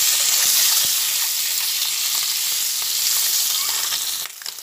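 Eggs seasoned with salt and turmeric frying in hot oil, a steady loud sizzle with faint crackles and occasional stirring taps, continuous and close before briefly dropping off at the very end.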